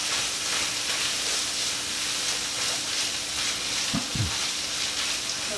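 Garlic cooking down in a skillet makes a constant close hiss of frying, with a couple of brief scraping knocks near the end, steady and unbroken with no one talking.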